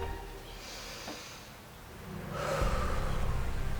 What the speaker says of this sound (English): Clover, let's take a deep breath.